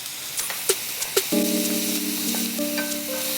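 Crushed coconut sizzles in a pan over a low flame while masala is made for a prawn roast. A few quick clicks and stirs come first, then a soft fry continues under a steady tonal hum.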